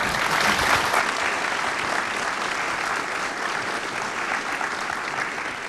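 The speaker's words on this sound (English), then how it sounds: "Another round of applause for our panel." A conference crowd claps for a panel in sustained applause, a dense even patter of many hands that fades slightly toward the end.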